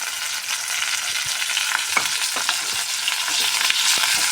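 Onions and curry leaves fry in hot oil for a tempering that goes into a chutney. The sizzle is dense and continuous, and light stirring scrapes and pops run through it.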